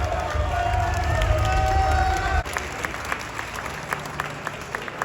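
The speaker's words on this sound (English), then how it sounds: "ladies and gentlemen, a huge round of applause for all of our fantastic athletes" An audience applauds the athletes at a PCA Naturals physique competition, a full, steady roar of clapping with crowd noise that carries on throughout, a little thinner in the second half.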